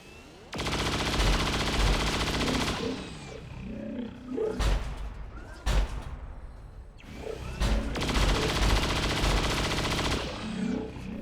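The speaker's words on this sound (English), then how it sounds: "who can now unleash her chain shot against the Sectopod" A Grenadier's chain shot fired at a Sectopod in XCOM 2: two loud, sustained bursts of heavy gunfire with mechanical clatter and a whooshing rush between them, close and powerful.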